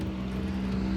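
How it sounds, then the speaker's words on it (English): A car on the street outside a home right next to the road gives a steady, fairly loud engine rumble with a low droning tone and no speech. "I live right next to the street, so you hear cars and whatever"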